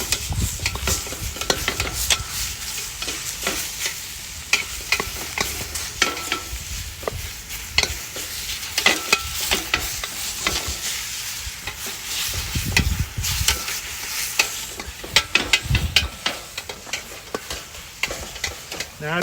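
Beef for goulash searing in a pot while a utensil breaks it up, a continuous close sizzle with rapid scraping and clattering strokes against the pot, alone without talk.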